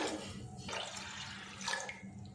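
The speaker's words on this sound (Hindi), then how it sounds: "मैंने इनके ऊपर पानी बहा दिया ताकि अच्छे से ये साफ़ हो" Water streams steadily over lentils being washed, a constant soft rushing and splashing with no talking.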